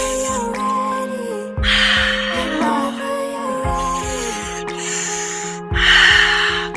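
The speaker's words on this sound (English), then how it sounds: "We're going to slow the breath down with that 3-part breath" Breathwork exercise with three-part breathing: loud, close, rasping inhales and exhales through the nose and mouth in slow cycles, with a steady low beat and sustained music tones underneath.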